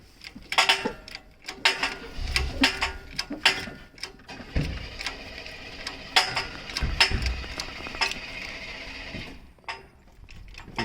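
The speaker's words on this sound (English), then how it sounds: "That popping noise you hear is just the hoist itself." A car lift hoist pops and clicks in irregular bursts while slowly raising an engine during an engine swap on a 2005 Acura TL, sharp snaps scattered over a quiet shop background.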